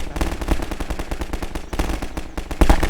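Rapid bursts of automatic gunfire in the video game Garry's Mod, dense and loud, crackling continuously for a few seconds with a heavier blast near the end; no voices.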